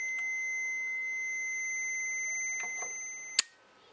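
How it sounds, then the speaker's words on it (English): A Mamiya RZ67 Pro II camera gives thin, high electronic warning beeps near the end of a long exposure, a few short tones over a quiet room, then a sharp click as the shutter closes. "It beeps for the last 5 seconds, and then it automatically closes the exposure"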